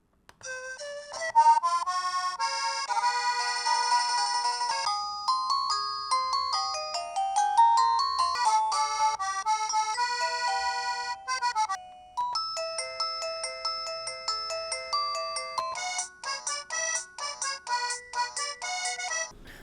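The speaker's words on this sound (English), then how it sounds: "Now let's hear out some sample ringtones." A wireless doorbell receiver plays a series of bright electronic chime melodies one after another, clean and tonal, shifting from flowing tunes to quicker repeated beeping patterns.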